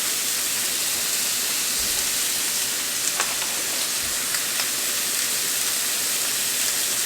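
Cajun shrimp sizzle on a grill alongside T-bone steak, a steady broadband frying hiss that runs the whole time, close and even, with a few faint crackles and pops and no talking.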